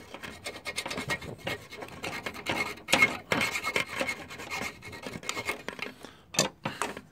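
Metal being filed by hand to prepare a ground wire connection on a GY6 scooter, a close series of uneven raspy scraping strokes, some louder and sharper, with no speech.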